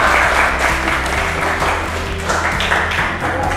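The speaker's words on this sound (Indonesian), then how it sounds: "Tepuk tangan dulu buat Dinda." A classroom of students applauds a classmate named Dinda, a short, steady round of close clapping with a low hum running underneath.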